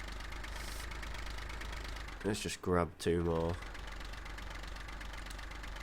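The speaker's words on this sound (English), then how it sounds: "It's a good thing we did refuel this tractor, because it doesn't half like burning some diesel." Diesel tractor idling in Farming Simulator 15, a low, steady engine hum running underneath throughout, with someone speaking briefly in the middle.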